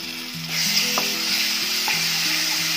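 A ginger, garlic and chilli paste with spices sizzles loudly in a pan for a pork dish with mustard greens, a continuous close frying hiss with faint music underneath.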